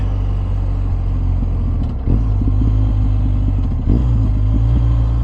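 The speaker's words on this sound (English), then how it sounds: "I just love the sound that this Akrapovic exhaust makes with this BT2 on this GS." A deep, steady Akrapovic aftermarket exhaust rumble from a 2022 BMW R1250 GS motorcycle idling close by, with two brief throttle blips that swell the low growl before it settles back.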